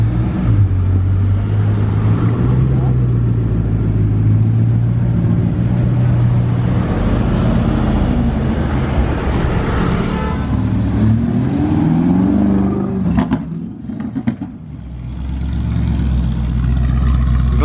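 A car engine idles loudly close by in a steady, deep drone that swells and wavers in pitch partway through before settling back to a low rumble.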